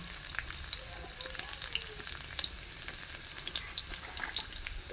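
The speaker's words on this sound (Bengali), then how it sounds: "এতে আমি দিচ্ছি কুচানো ধনে রসুন কুচি" Chopped coriander and garlic frying in hot oil for an egg chop recipe, a soft continuous sizzle with scattered crackling pops close by, no voices.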